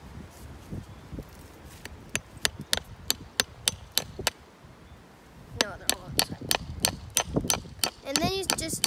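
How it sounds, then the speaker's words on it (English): Brace wire is driven through wood with a hammer in two runs of sharp, evenly spaced strikes separated by a short pause, close and distinct over low background handling noise. "I'm stuck at hammering, so I'm just gonna let him do that."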